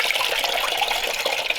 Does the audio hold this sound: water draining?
yes